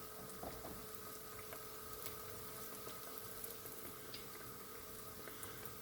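Cape Malay koesisters fry in hot oil, giving a faint, continuous sizzling hiss with small scattered pops, steady and uninterrupted with no talking.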